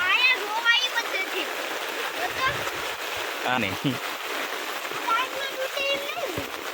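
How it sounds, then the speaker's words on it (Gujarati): Heavy rain and rushing water flowing near a village pond, a continuous splashing stream with voices talking over it. "અત્યારે વરસાદ બહુ છે અને અહીંયાથી જો પાણી કેટલું જાય છે"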